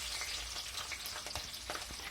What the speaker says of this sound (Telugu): ఆయిల్ కాస్త వేడైన తర్వాత పచ్చిమిర్చిని యాడ్ చేసుకుందాం